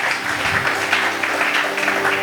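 Congregation applauding at a church seminar, a dense, even wash of clapping from many people throughout, with no speech over it.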